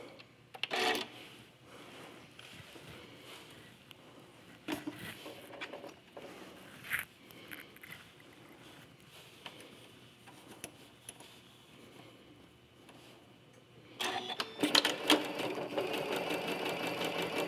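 A sewing machine stitches quilt blocks together in short bursts of rapid mechanical whirring, separated by quiet pauses, with a longer, louder run at the end; no voices.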